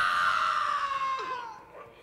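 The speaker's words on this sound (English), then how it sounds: "God, I love that scream." A long, high, piercing scream from a character in the Mass Effect 2 video game, loud at first and then trailing off and fading over about two seconds.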